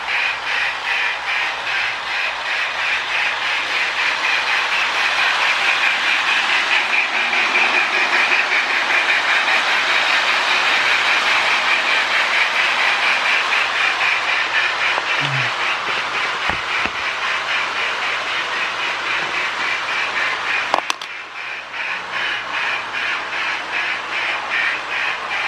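A Lionel 8904 model train locomotive, refitted with a metal part and a new traction tire, runs steadily on track with a continuous motor whir and a faint rhythmic rail clatter, close and without voices.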